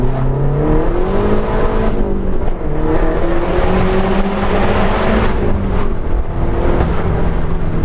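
A 400 BHP Mazda 3 MPS Aero edition accelerates flat out through a tunnel with the window open, its engine roaring loud and close, climbing through several gear changes with echoing intake and exhaust.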